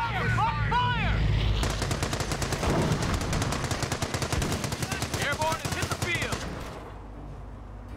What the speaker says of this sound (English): What are you firing at?